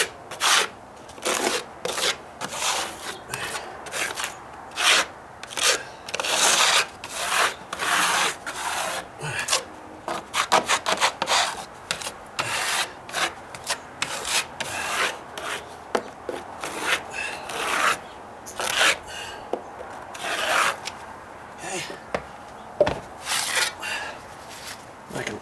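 Patch compound is smoothed over the ridged steps of a dry-rot-repaired deck stair with a trowel, making a steady run of rasping, scraping strokes in quick, irregular rhythm, close by.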